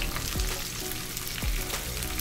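Curry leaves sizzling in hot oil in a frying pan for a Kerala fish molly, a steady close crackle with two brief louder bursts as the leaves hit the oil.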